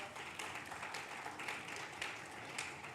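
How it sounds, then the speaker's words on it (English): An audience at an awards ceremony honouring women in Odisha applauds with steady, continuous clapping that sounds distant and fairly faint. "big round of applause"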